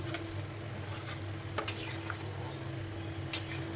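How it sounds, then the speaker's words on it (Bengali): Soybean chunks go into a sizzling pan of vegetable curry, with a steady close sizzle, stirring, and a couple of sharp metallic clinks of a utensil against the pan. "সবিনগুলো দিয়ে দিলাম"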